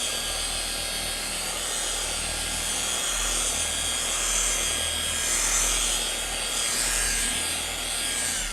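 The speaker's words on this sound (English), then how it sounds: "There's no science to doing the wax part with a machine." A machine polisher spreads wax across a boat hull, making a steady whirring hum with slowly swelling rubbing and scuffing, close and continuous without talk.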